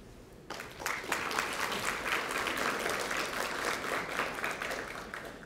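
A National Honor Society ceremony audience applauds, a quiet room giving way after half a second to a steady, even round of crowd clapping that continues to the end.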